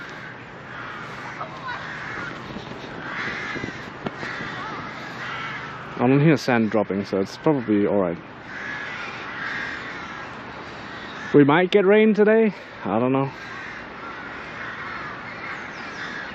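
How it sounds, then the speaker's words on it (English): Crows from nests overhead caw in two loud bursts of repeated harsh calls, over a steady outdoor background, with people talking nearby in between. "there's a bunch of crow's nests up top. Bunch of crows."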